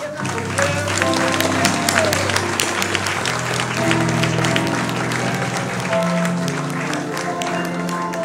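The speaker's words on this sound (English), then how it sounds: "Let's give them a round of applause." A church congregation at a morning service claps to welcome visitors, dense sustained applause filling the room with organ or keyboard chords beneath and voices murmuring through it.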